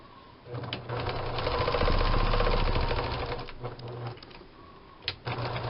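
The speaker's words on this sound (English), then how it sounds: "So I'm just going to sew those all together." A domestic sewing machine stitches fabric pieces together in a steady, fast mechanical clatter that runs for several seconds, pauses briefly, then resumes in short bursts.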